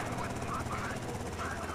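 A helicopter's rotor chop and engine drone in the game GTA Vice City beat steadily and loudly throughout, with a pulsing rhythm and a muffled voice faintly underneath.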